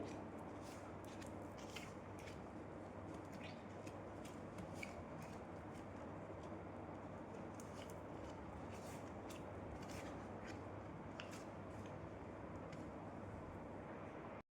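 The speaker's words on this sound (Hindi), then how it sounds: "तो फ्रेंड्स, कार्ड्स को अरेंज कर लेते हैं।" Playing cards are arranged and shuffled in a soft, continuous papery rustle, with faint scattered flicks and taps throughout. The sound is quiet and close, with no voices.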